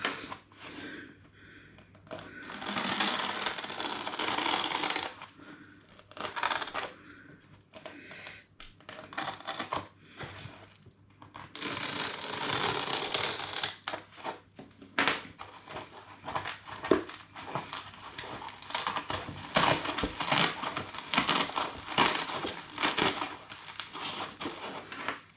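Foam insert in an airsoft kit box being cut down and pulled apart, with bursts of crinkling, tearing and scraping that come and go near the microphone over about twenty-five seconds.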